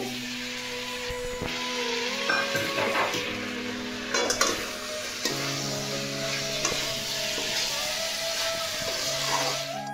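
Prawns fry with kohlrabi in a pan as a steady close sizzle runs under repeated stirring scrapes and clinks of a utensil against metal, with no voices.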